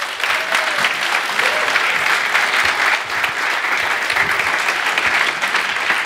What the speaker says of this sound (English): Can we have a huge round of cheer one more time for the coolest keynote ever?